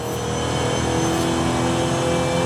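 Hot rod sleeper car engine revving loudly and steadily up close, a dense continuous roar with no pauses.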